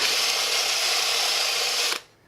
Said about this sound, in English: we just kind of angle it and drill us a hole